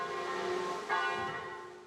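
Church bells ring out across Mont-Saint-Michel, a steady, sustained metallic peal with a fresh strike near the middle, heard alone at moderate distance with no talking.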